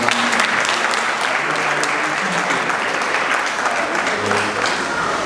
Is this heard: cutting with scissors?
no